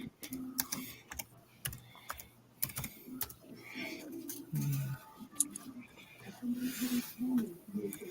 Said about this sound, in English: I'm typing it in the things right now, and I just typed it in.